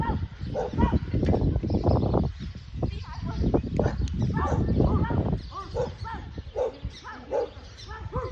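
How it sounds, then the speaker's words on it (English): A dog barks in rapid, repeated bow-wows and yips at a birthday party where kids are chasing dogs. The barking is loud and close, mixed with excited voices and shouting. "Ahí está el pinche perro"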